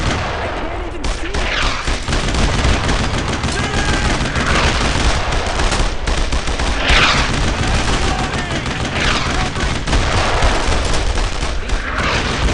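Sustained heavy gunfire in the World War II shooter Brothers in Arms: Road to Hill 30, continuous overlapping rifle and machine-gun bursts with booming blasts, loud and dense throughout, with shouting voices mixed in.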